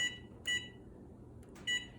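Two short, bright beeps from a kitchen oven timer being set, spaced about a second apart over a low background hum, while lemon cookies bake at 350 degrees.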